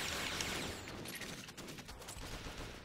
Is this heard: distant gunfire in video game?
yes